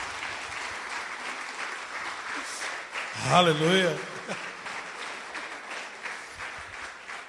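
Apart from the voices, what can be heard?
church congregation applauding Jesus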